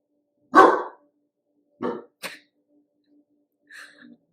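Several separate dog barks from more than one dog, a loud bark followed by two shorter ones and a fainter final bark, with quiet gaps between them.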